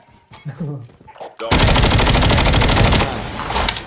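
Rapid automatic gunfire in Call of Duty: Mobile battle royale erupts loudly after a brief stretch of quieter game sounds, a dense continuous burst that holds for a couple of seconds before easing.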